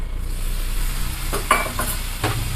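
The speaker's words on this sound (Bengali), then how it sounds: "এবার আমি এতে মিশিয়ে দেব সামান্য পরিমাণে একটুখানি জল।" A little water goes into frying spice paste, which hisses and sizzles loudly up close while a spoon stirs it in short scraping strokes.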